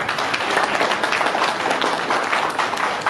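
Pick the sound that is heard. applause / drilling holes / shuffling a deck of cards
applause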